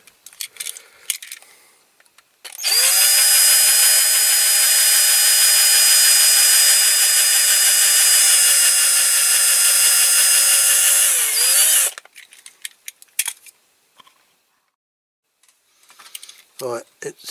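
A power drill with blunt bits bores into a die-cast Dinky Toys Cunningham C-5R model car, one loud steady whine lasting about nine seconds, framed by brief handling clicks and knocks before and after.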